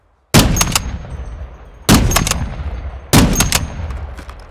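Gunfire in Call of Duty DMZ at Fort Scout: three sharp, loud bursts of shots spaced about a second and a half apart, each trailing off into a decaying tail, with no voices.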